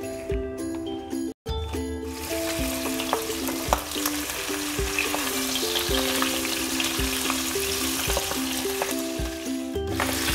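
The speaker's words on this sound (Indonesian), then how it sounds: "Ini kepalanya lepas ya teman-teman. Nggak apa-apa, tetap kita goreng aja ya." Milkfish frying in hot oil in a wok, a steady loud sizzle and crackle throughout with occasional clinks and scrapes of a utensil against the pan.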